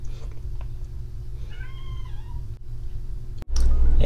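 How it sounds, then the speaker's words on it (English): A house cat meows once with a short, rising-and-falling call, faint and somewhat distant under a steady indoor hum, followed by a loud thump of handling noise; no one speaks. "Can y'all hear my cat?"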